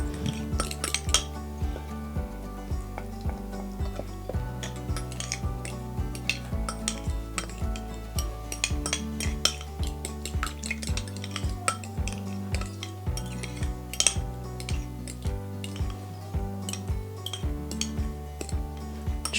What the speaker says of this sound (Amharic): የቀረ ካለ በደንብ እንፈጨዋለን ማለት ነው።